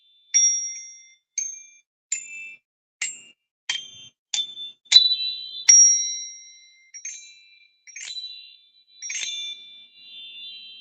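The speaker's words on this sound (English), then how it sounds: "they really are energy chimes" A six-note set of energy chimes is struck in a slow sequence, each bright metallic ding ringing out clearly and decaying before the next strike, alone with no voices.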